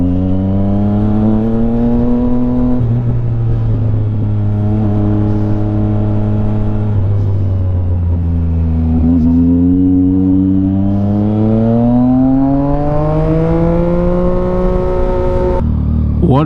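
A Yamaha XSR900 motorcycle engine hums steadily while riding, with a loud, close drone that rises and falls in pitch through gear changes and throttle shifts, and a voice briefly heard near the end.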